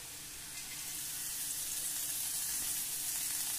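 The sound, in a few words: cabbage added to sautéing onions in a pan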